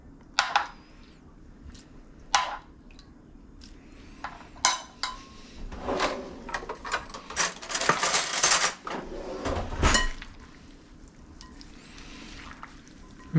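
Utensils toss a Vietnamese green mango salad in a bowl, producing irregular close clinks, clatters and scrapes of metal against the dish that cluster into a busier burst of mixing midway.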